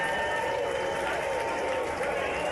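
Steady applause fills the chamber of the US House of Representatives following the vote on aid for Ukraine, a continuous even roar of many hands clapping with crowd murmur beneath, heard somewhat distant.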